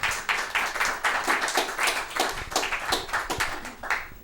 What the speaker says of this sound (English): can we have a warm round of applause for Jess Starwood?